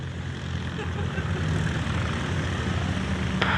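A de Havilland Chipmunk propeller plane, WD373, roars on its take-off run at Leicester Airport, a loud steady engine drone close by with no speech heard.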